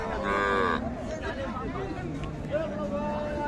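Cattle at a market for cows and calves, with a four-tooth cow and a Sahiwal bull calf on sale. A low, drawn-out moo rises near the start over steady crowd babble and talk.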